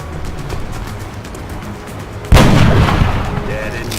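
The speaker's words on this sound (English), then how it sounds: "So we'll start by having our snipers take some shots." A sniper rifle shot fires in the XCOM strategy game, one loud sharp blast that rings out and slowly decays after a stretch of quiet game ambience.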